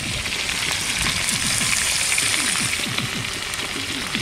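Spices with chopped tomato, ground ginger, cumin and green chilli paste sizzle in a frying pan of oil after cauliflower has been fried: a continuous, crackling hiss with dense popping, steady and close, no voices.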